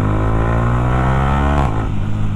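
A street-raced motorcycle with a loud aftermarket exhaust holds a steady, throaty drone close up, then the revs drop sharply and it settles to a lower rumble.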